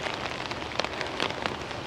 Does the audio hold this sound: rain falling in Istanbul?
yes